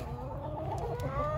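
Jumbo Cornish chickens on a half-acre homestead cluck softly and steadily at a distance, a low faint murmur of barnyard fowl with light chatter layered throughout.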